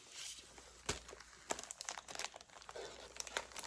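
A laser-cut paper sheet crinkles and rustles as it is handled up close, with sharp crackling bursts and softer sliding rustles coming in irregular, quiet bursts, and no voice.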